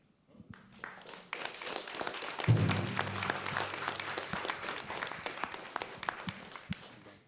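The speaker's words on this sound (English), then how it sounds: "You deserve a round of applause." Applause from the audience at a chiefs' spring assembly starts and swells into sustained clapping that carries on loudly to the end.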